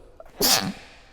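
A single sharp human sneeze bursts out loud and close during a seated interview, with a brief intake before it and quiet room tone after.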